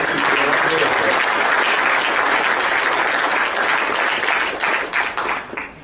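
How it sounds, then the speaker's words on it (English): Audience at a sports closing ceremony applauding, a loud, continuous wash of many hands clapping that holds steady, then thins and tapers off near the end. "So please, a round of applause."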